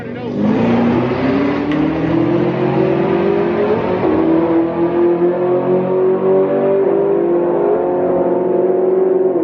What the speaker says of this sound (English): Hold on, they road racing. About to get loud as hell.